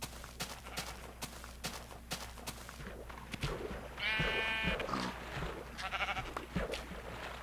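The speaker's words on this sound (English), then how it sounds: "I need that sheep though" Sheep bleat in the blocky survival video game Minecraft, two short wavering bleats standing out over a busy bed of game clicks and footsteps, no speech.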